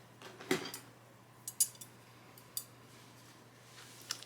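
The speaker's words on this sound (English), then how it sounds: "get my scissors." Scissors picked up and handled at a quilting table, a few sharp metallic clicks and clinks spaced out over several seconds against a quiet room with a low hum.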